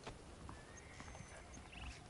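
Horses in Red Dead Redemption, saddled and waiting, give soft hoof clops and a brief whinny over a steady ambient background, fairly quiet and with no talking.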